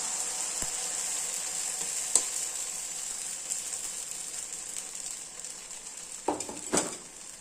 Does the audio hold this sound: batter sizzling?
yes